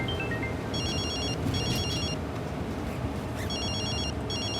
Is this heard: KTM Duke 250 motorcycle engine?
no